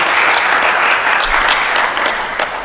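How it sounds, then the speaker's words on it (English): Steady, dense applause from a conference audience at an African remote sensing and environment meeting, loud and continuous throughout with no voices over it. "Please give another round of applause."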